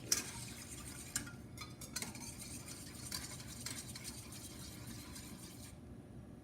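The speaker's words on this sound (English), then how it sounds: "You just want to whisk it together with the pineapple juice." Cornstarch is whisked into pineapple juice in a culinary class kitchen, a soft, continuous swishing and scraping in a bowl with occasional faint clinks, quiet and with no voices.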